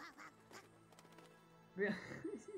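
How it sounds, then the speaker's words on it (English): A chicken in a video game gives a duck-like quack, several honking calls near the end, fairly close and clear over quiet game sounds. "Una gallina, en serio, una gallina que hace quack."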